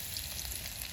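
Chili peppers fry in a pan over a campfire outdoors in a jungle, with a steady close hiss of sizzling oil across a short moment.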